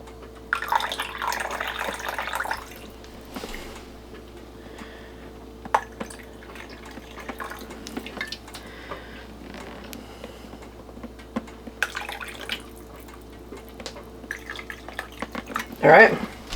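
Liquid poured into canning jars of navy bean soup: a short trickling pour, then scattered drips and small clinks of glass, close, with a person talking over parts of it.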